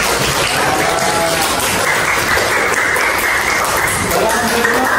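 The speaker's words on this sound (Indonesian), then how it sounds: "Mana tepuk tangannya?" Classroom applause for a student group after its presentation, steady clapping from a class of students filling the room for several seconds, with some voices mixed in.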